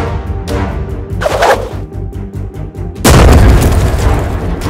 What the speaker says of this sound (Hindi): रोबोट अपनी मिसाइल से चीनू के ऊपर हमला करने की कोशिश करता है।